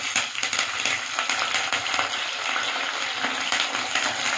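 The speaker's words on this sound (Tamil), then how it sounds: "நல்லா போட்டு ஒரு கிளறி விடுவோம்." Curry leaves, dried chillies, shallots and garlic frying in oil while being stirred: continuous bright sizzle with scraping stir strokes and occasional spatters, close and steady.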